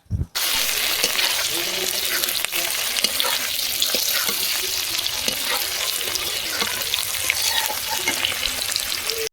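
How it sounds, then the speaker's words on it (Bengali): Paneer pieces fry in hot oil in a pan, giving a loud, continuous close-up sizzle with scraping stirs throughout. "এখন তেলে আমি পনিরগুলো লাল লাল করে ভেজে নিচ্ছি"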